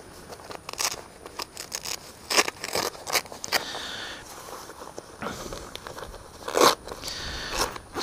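Zips on a motorcycle patrol jacket being undone, with the flaps pulled open close up in a series of short crackling, rasping bursts that come irregularly over several seconds.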